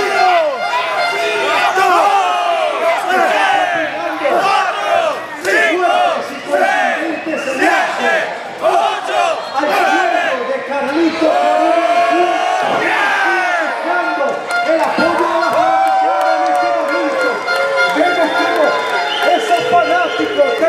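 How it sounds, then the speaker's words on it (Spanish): Wrestling crowd at a Carlito versus El Mesías match cheers, whoops and chants loudly and continuously for El Mesías, a dense roar of many voices mixed with shouted calls throughout. "fanático del Mesías están vitoreando al suyo en este momento"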